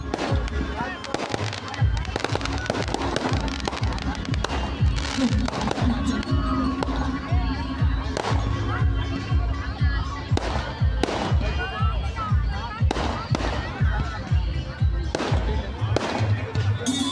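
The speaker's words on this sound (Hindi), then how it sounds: "यहाँ देखिए कितनी अच्छी आतिशबाजी है, बहुत देर तक आतिशबाजी चली है।" Fireworks burst at a wedding procession in Barhi city, India, a long rapid volley of loud crackling bangs and pops over a constant roar of crowd noise and music.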